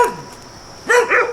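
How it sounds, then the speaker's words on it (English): A thin, emaciated dog barks close by: one short yelp is followed by a louder double bark near the end, clear and alone with no talking. "look at this dog. Look at that."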